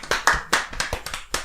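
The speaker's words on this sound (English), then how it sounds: "when we clap it echoes in the room" About eight sharp hand claps in an uneven, quick pattern inside a room with an echo, close and fairly loud with no talking.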